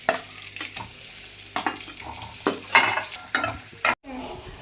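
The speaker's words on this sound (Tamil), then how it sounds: "அந்த பன்னீரை வந்து பட்டர்லேயே வந்து ரோஸ்ட் பண்ண போகிறேன்" Paneer roasting in butter in a pan, a steady sizzle broken by repeated scraping stir strokes and brief clatter of a utensil, close and fairly loud, with no talk.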